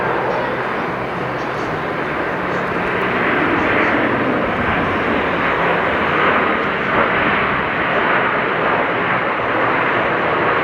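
An Airbus A330-200 jet airliner's engines roar in a broad, steady rumble that swells slightly midway, loud and sustained throughout, at JFK airport.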